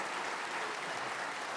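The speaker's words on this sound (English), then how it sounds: "this round of applause goes to you" Steady, dense applause from an audience at a first-semester students' welcome event, a continuous wash of clapping that is fairly soft and even throughout.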